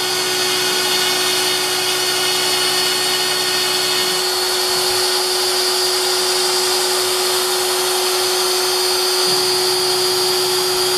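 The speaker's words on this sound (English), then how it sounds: "turn the spindle on. Spindle it on. Start carving. And there it goes." An X-Carve CNC router spindle carving runs as a loud, steady high whine with a constant grinding roar beneath, dipping briefly twice as the bit works the material.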